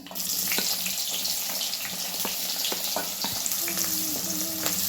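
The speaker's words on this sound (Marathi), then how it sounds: "भाजून घ्या चांगला कांदा बघा लाल होईपर्यंत" Onion frying in hot oil with mustard and cumin seeds for a spicy mixed vegetable dish, a steady close sizzle with scattered pops and crackles and brief stirring clinks, no talk.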